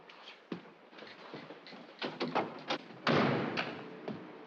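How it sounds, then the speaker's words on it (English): A door bangs shut in a 1953 classic film, one of a series of close thumps and knocks that ends in a heavier, fuller slam near the end. "Don't slam the door."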